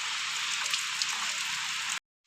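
Steady, unbroken rain falling continuously in a village during the monsoon, a dense even hiss with no voices, cutting off abruptly near the end.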